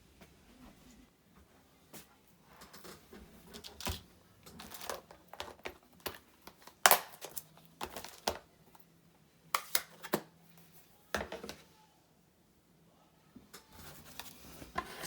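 Scissors cut freehand around a shape on white cardstock, giving sparse, sharp snips and crisp crunches at close range, irregularly spaced with quiet pauses between.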